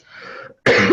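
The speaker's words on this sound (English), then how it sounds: "As I cough there." One harsh cough close to the mic, preceded by a soft breathy exhale and a brief silence.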